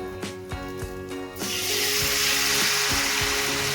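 Gravy poured into a hot pan of fried katla fish bursts into loud, steady sizzling and frying hiss after a few brief clinks and stirring sounds, continuing close and alone.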